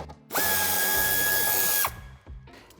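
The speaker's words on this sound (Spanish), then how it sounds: "podremos quitar el tornillo de cabeza de 7" A power drill on a Jeep Compass removing a 7 mm head screw, one loud sustained whirring burst of about a second and a half, close up, followed by faint clicks and handling noise.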